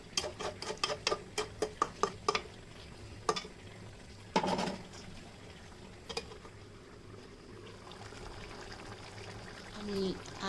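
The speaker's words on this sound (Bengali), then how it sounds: "কলিজাটা আমি ঢাকনাটা উঠিয়ে কলিজাটা আমি নাড়া" Beef liver being stirred in a cooking pot: a quick run of sharp utensil clinks against the pot, then a louder scrape and scattered taps over a low background hiss.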